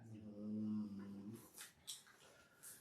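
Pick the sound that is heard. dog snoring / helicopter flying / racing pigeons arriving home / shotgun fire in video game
dog snoring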